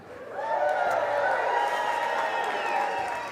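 A live crowd at an indoor winter speaker series event cheers and applauds as the host is introduced, a loud, sustained wash of clapping and whoops lasting a few seconds.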